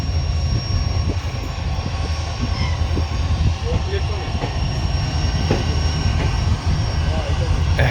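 Goods trains rumble at a large multi-line railway station, a loud, continuous low roar with a faint steady whine above it, and a voice talks briefly over the noise.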